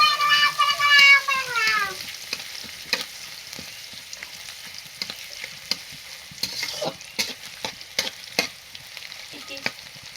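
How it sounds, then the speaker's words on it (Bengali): Spices sautéing in a pan for a supuri curry, a steady sizzle with scraping spoon stirs and clinks scattered throughout, with a high whistling tone fading over the first two seconds. "এখন আমরা সুপুরুক তরকারি করব, এটা কষাইতেছি।"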